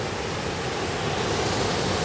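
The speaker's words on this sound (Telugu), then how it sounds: "ఇక్కడ ఈ నీటి సౌండ్ చూడండి ఫ్రెండ్స్." Water rushes and flows near a temple at Muktinath in Nepal, a dense, steady roar that fills the whole short stretch at an even, fairly loud level with no voices.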